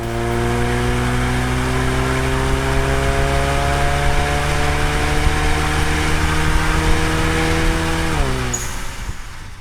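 A 2015+ Ford Mustang EcoBoost with a stainless steel Pypes axle-back exhaust drones loudly at a steady idle, its engine tone held evenly before dipping slightly near the end.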